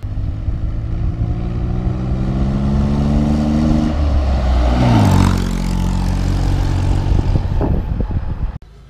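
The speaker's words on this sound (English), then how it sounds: "we're gonna fire it up here on the lift and show you how the four-wheel drive works and the PTO" A 1964 Jeep CJ5 M38A1 up on a workshop lift fires up. The starter cranks, then the engine catches with a loud surge and settles into a rough, loud idle close by, and it cuts off abruptly at the end.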